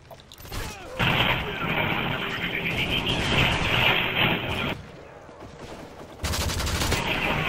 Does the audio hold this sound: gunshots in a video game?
yes